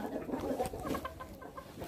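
Hens cluck softly in a backyard coop in snowy weather, a few low throaty clucks close by in a quiet setting.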